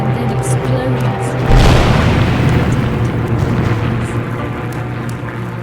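A deep, rolling explosion boom from the war video game Torn Away swells in about a third of the way through and rumbles on, fairly loud over a low drone.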